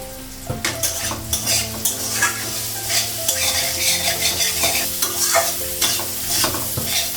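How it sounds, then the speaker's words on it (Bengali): Bitter gourd fries in a wok, crackling loudly close by while a metal spatula scrapes and clinks against the pan in a busy, rhythmic stirring pattern, and no voices. "করলা ভাজাটা হয়ে গেছে"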